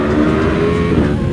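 A Yamaha R1M sport motorcycle fitted with a Brembo brake setup revs hard and loud close by. The engine roar is dense and continuous over a short burst, with no talking.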